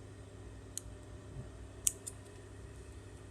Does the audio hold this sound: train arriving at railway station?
no